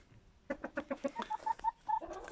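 A chicken clucks in a quick series of short, close calls, then gives a few longer, drawn-out notes.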